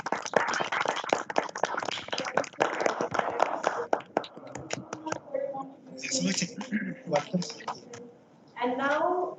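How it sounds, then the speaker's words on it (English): Scattered clapping from participants of an online International Mountain Day event, sharp uneven claps through unmuted microphones that thin out, followed by a person speaking. "give a big round of applause"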